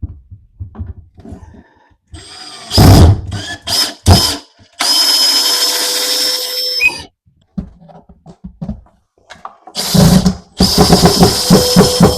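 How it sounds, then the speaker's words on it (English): A power drill drives bolts to fix a hall tree to a wall, with loud bursts of whirring separated by pauses, one sustained run of several seconds and a final burst near the end, close by and free of speech. "now let's put 2 in and bolt this to the wall."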